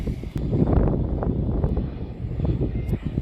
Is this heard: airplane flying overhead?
yes